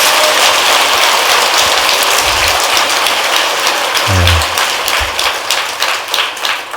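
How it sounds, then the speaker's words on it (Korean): A large assembly claps steadily at a Buddhist dharma gathering at Tongdosa temple, honoring the student monks. The dense, even patter holds for the whole stretch, with a few dull low thumps mixed in. "박수 한번 보내주시죠."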